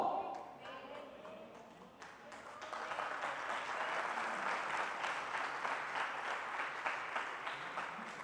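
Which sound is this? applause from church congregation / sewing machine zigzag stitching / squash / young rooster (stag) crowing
applause from church congregation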